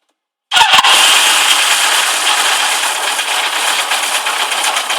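A Suzuki GS motorcycle with a breaker-point ignition fires up abruptly after a moment of silence, then settles into a loud, steady idle close by.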